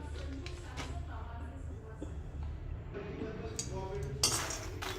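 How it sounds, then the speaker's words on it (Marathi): Fox nuts (makhana) roast in a wok on a gas stove, giving faint, scattered clinks and scraping taps over a low background hum. "पहिले मखाणे टाकून घ्यायचे आहे. मखाणे भाजून घेऊया."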